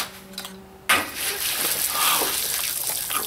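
Cold water is dumped all at once from a bucket tipped by a CNC stepper-motor and pulley rig, a sudden loud splash and gush after a brief hum, then pouring and splattering.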